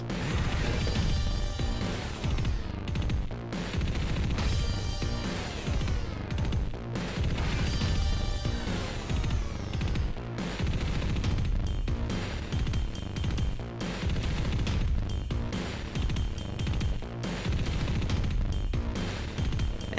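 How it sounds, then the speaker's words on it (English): A spacecraft crashes and explodes on landing on the planet Eve in a video game, a long, dense roar of repeated crashing blasts and rumble, loud and continuous with no talk. "we exploded into a big ball of fire"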